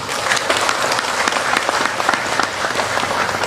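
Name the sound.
audience applause for the governor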